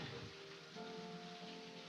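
Rain falls outside, a soft, steady hiss of drops on surfaces, fairly faint and low, with no one speaking.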